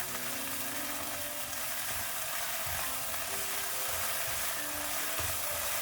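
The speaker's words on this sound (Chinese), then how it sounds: "给它慢慢的炒出豆香味" Soybean paste stir-fried with chopped scallion, minced ginger and small chili peppers in hot oil, a steady dense sizzle running throughout with faint low scraping from stirring.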